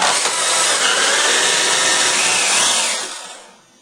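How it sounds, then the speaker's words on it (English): A screwdriver drives out screws from a wooden urn pressed against a firm surface, giving a steady, close grinding and rubbing sound for about three seconds before fading. "it's on a firm enough surface that I can push down on so that the screwdriver won't lose traction"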